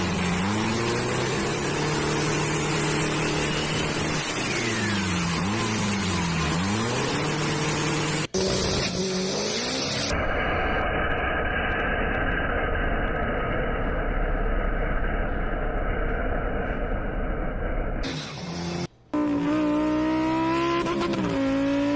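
Loud exhaust from a modified car roars continuously up close, rising and falling with revs and abruptly changing tone several times, as if cutting between different cars, with a brief dropout near the end.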